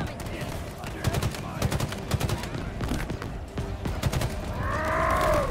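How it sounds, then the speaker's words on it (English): Halo Infinite multiplayer gunfire: rapid automatic bursts and single shots cracking in quick clusters, loud and near, mixed with game voices and grunts, ending in a swelling electronic whine. "He's getting shot by his own man."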